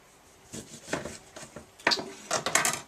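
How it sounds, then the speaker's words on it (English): A knife slicing through a lemon on a cutting surface gives a few soft, close cuts and knocks, irregularly spaced and quiet, with a couple of sharper taps near the end. "So we'll take the knife, cut the lemon."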